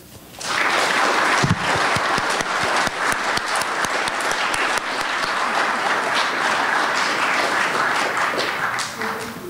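An audience at an evening lecture on a ground-based telescope applauds to welcome the speaker, with loud, dense, sustained clapping that starts abruptly and continues at a steady level for several seconds.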